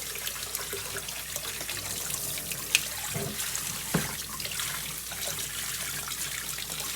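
Running water from a tap rinsing freshly harvested turmeric rhizomes, a steady close splashing trickle with a couple of light knocks of handling.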